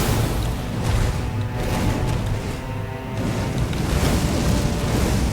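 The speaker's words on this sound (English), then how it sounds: "dodge the follow-up explosions" Booming explosions from a boss's follow-up attacks in Elden Ring, a dense continuous rumble of blasts and debris that stays loud throughout with no talk over it.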